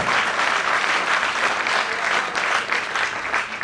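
A seminar audience in Delhi applauds, dense sustained clapping from many hands that carries steadily throughout without a break.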